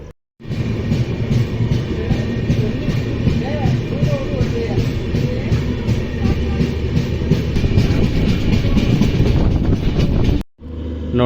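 The Hassan–Solapur Express, train number 11312, rolls out of a station with a continuous rumbling clatter of wheels on rails, loud and close. It ends with a brief drop to silence.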